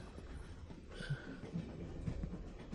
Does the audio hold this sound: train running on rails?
yes